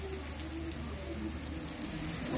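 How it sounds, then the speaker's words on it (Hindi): Heavy rain pours down in a steady, dense hiss that continues evenly throughout, with a low rumble underneath and no voices. "कितनी तेज़ बारिश हो रही है।"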